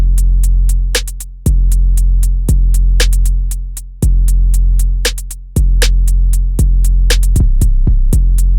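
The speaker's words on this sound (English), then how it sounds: "The hi-hat, simple rolls, and at the end of the bar, there's always one hi-hat missing, which gives a little space." Trap beat, loud and alone: crisp hi-hats with quick rolls, a deep booming 808 bass hitting and sliding on each bar, and a brief gap where one hi-hat drops out at the end of the bar.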